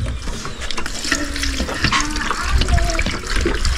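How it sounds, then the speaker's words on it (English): Water poured into a pot of matooke in a village kitchen, splashing and gurgling steadily with faint clanks, close and fairly loud. "Now you put in our matooke. Now next is to put in some water."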